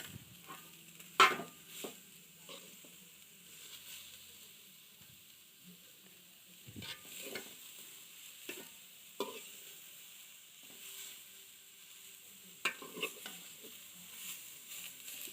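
Beetroot sautéing in a pan gives a soft sizzle under intermittent stirring scrapes and utensil taps, quiet and close, with scattered louder strokes and no clear speech.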